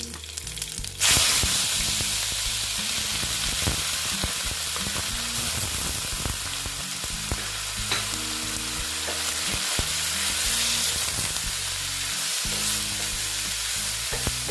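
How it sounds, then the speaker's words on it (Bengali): Radish pieces dropped into a hot frying pan for a spicy radish dish, bursting into loud, steady sizzling and crackling frying that carries on without pause, with occasional stirring clicks underneath. "এবার আমি মুলোগুলো দিয়ে দিচ্ছি"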